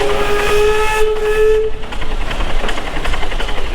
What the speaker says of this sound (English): tooted the whistle once to start the belt and twice to stop